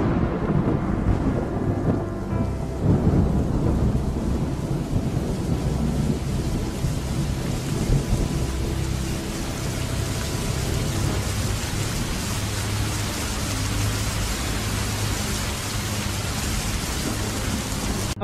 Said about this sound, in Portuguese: A chuva castigava o telhado